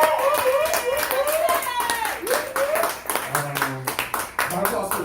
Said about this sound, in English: Round of applause for Whit